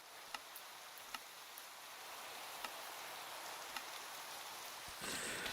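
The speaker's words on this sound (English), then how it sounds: "I like to hear the rain" Rain falling in the Minecraft video game, a faint steady hiss with scattered sharp drip-like ticks and a brief louder surge near the end, no voices.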